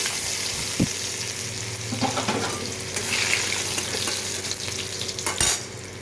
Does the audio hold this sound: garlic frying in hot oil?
yes